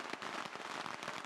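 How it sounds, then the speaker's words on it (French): Dense, continuous crackling of firecrackers bursting during a religious street parade through the centre of Phuket, a rapid rattling barrage with no gaps, fairly loud and steady throughout. "Ces parades religieuses qui traversent le cœur de la ville de Phuket ressemblent à un champ de bataille entre sang et explosion de pétards"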